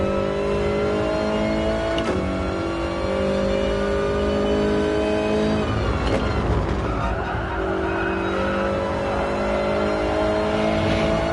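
A Toyota race car's engine in a racing video game at Spa runs steadily at high revs, with throttle blips and shifts around two and six seconds, tire squeal through the corner, and continuous near, loud drone.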